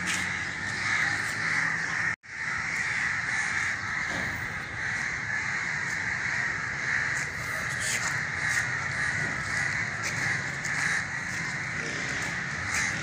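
Crows caw continuously and loudly near a bazaar in Rafah-e-Aam Society, a dense overlapping chorus of harsh calls with a brief drop in sound early on and no talking.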